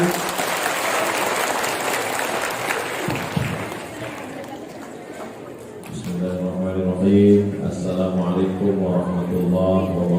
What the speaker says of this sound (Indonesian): Tepuk tangan dulu jamaah.